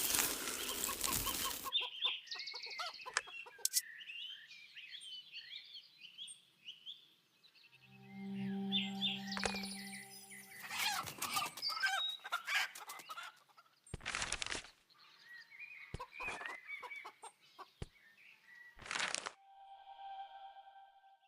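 Chickens cluck and flap their wings in the Lost Lands 10 video game, in scattered bursts with a few loud sharp hits and a low tonal passage mixed in. No one speaks.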